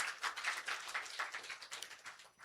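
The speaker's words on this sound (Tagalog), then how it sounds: "Come on, malakas na palakpak sa Panginoon." A church congregation claps loudly and rapidly in a dense, continuous patter that fades slightly toward the end.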